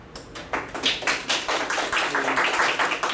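An audience at a real estate presentation applauds, a short burst of scattered, moderate clapping from a small crowd in a room, fairly near and without talk.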